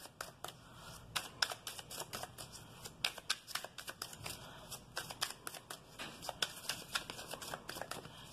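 Tarot cards shuffled close by, a steady stream of soft riffling and slapping flicks with quiet gaps, fairly faint and with no talking.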